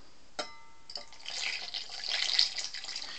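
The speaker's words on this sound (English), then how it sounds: "Let's add some more water." Water is poured over a mobile phone, starting with a single sharp drip and then building into a close, splashing trickle that grows louder before easing off.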